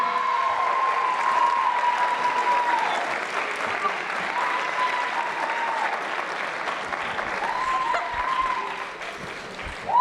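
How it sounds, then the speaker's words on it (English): An audience at a high school winter sports awards ceremony applauds with sustained, dense clapping that fills the hall for several seconds, while a voice speaks over the crowd. "Then now, you guys can clap."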